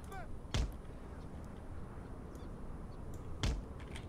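Two sharp artillery blasts from the video game Napoleon Total War crack out about three seconds apart over a low, steady battlefield hum, each a short punchy boom with no talk.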